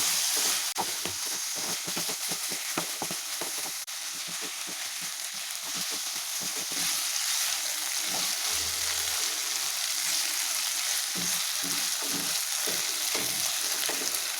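Mutton sautés in a pan over a medium-low flame, with a steady close sizzle throughout and rhythmic scraping as it is stirred.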